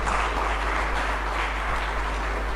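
Steady, dense applause from an audience at a Ghanaian government briefing on rebuilding the economy, a continuous wash of clapping at even loudness throughout with a low hum beneath.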